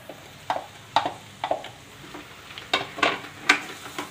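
Grated boiled potatoes being mixed for bread pakoda filling, a spoon scraping and tapping in a bowl at a steady rhythm of about two strokes per second, close and moderately quiet.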